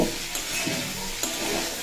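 Ivy gourd frying with turmeric, cumin and coriander powder over low to medium flame, stirred in a pan; a steady close sizzle with a few sharp scraping stirs, no talking.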